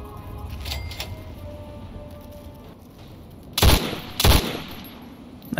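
Gunfire from a gun in Fallout 3: two sharp, loud shots about half a second apart ring out near the end, after a stretch of quieter game ambience with faint tones, no talk.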